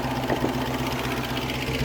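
A 1972 Range Rover engine idles up close with a steady low rumble and even mechanical ticking, loud and continuous with no voices over it.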